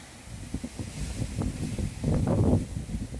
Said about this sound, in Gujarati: જો કેવો પવન આવે, એકદમ ઘાય સ્પીડમાં, જાણે વાવાઝોડું આવ્યું